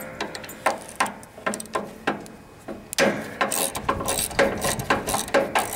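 A hand ratchet loosens the belt keeper bolt on an MTD Signature 2000 riding lawn mower, producing a series of crisp, close clicking bursts in an uneven rhythm, with the clicks growing louder partway through.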